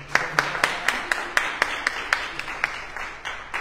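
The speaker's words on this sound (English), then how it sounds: "Let's give a round of applause once again for Ms." Audience applause at a community event honoring an advocate, heard as a steady run of about fourteen sharp, evenly spaced claps at moderate volume, sounding sparse and rhythmic rather than like a dense crowd.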